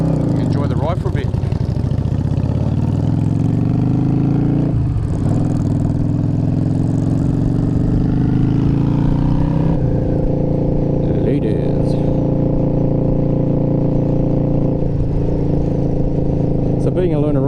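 A learner's motorcycle engine hums steadily while riding out in traffic, its mid-pitched drone shifting as the rider eases the throttle, with someone talking over it most of the time.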